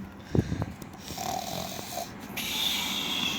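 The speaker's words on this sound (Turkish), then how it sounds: "Nasıl horluyor bu?" A character in a horror video game snores in short, rough bursts at the start, followed by quieter game noises and a rising background hiss.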